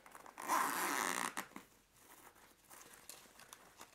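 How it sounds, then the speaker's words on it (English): A zipper is drawn open on a headset's zippered carrying case, a close, soft rasp lasting about a second, followed by faint rustling and handling noises. "So let's unzip it."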